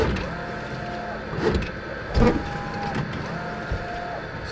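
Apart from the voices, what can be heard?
Epson SureColor F570 dye sublimation printer printing and cutting alignment pattern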